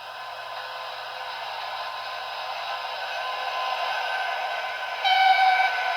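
A KAZI/GBL toy high-speed train plays its electronic sound effect steadily, held so the motor stays still, a bright looping tone that grows slightly louder near the end, close and alone.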